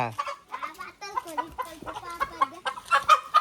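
A chicken clucks rapidly and loudly up close in a rural family setting, a busy run of choppy clucks and short squawks that fills the whole moment.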